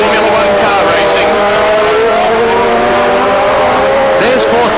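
Honda racing motorcycles at Lakeside Raceway in 1987 howl continuously at high revs, loud and close, with rising and falling engine pitch as the bikes sweep past under a commentator's voice.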